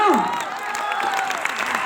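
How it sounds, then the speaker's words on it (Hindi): A talk show audience applauds, with the clapping moderate and continuous beneath a host's voice. "Round of applause for all of them."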